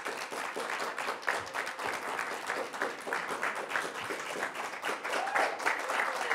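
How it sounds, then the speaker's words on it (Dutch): Studio audience on a cooking show applauding a neighbourhood police officer as he arrives, a sustained, dense patter of many hands clapping at steady volume for several seconds. "daarom vraag ik jullie even om een applaus voor wijkagent Dwight van de Vijver."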